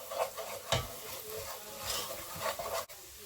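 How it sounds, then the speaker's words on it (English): Cooked onions with pepper powder and salt stirred in a pan, soft close scraping and rubbing of the spoon with a faint sizzle, quiet, no voices. "Give it a stir."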